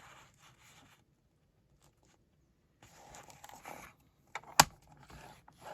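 Paper being cut into 4-inch pieces for a handmade mini notebook, with soft intermittent rubbing and scraping strokes and a sharp brief snap near the end, close and fairly quiet.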